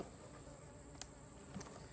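Honey bees in an opened hive during a late-summer apiary inspection, humming in a faint continuous drone with a couple of brief ticks from close by, and nobody speaking.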